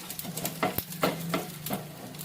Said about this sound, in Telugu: ఇప్పుడు మనం పోపు కొరకు శనగపప్పు మినపప్పు జీలకర్ర ఆవాలు ఎండుమిర్చి ఇవన్నీ మంచిగా ఫ్రై చేసుకుందాం